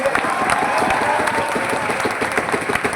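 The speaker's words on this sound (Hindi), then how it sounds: "जोरदार ताली होना चाहिए" Dense audience applause at a motivational class at Kautilya GS in Patna, loud and steady throughout with crowd noise and faint cheering mixed in.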